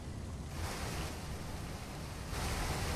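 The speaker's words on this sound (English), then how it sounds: "Nah, it's just splashes." Water splashing and washing in Fallout: New Vegas, a steady broadband surf-like wash that swells louder near the end, with no talking.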